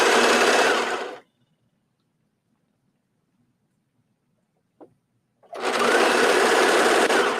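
A sewing machine stitches stretched binding onto the underarm of a knit tank top, running in two loud, steady bursts at the start and end with near silence in between.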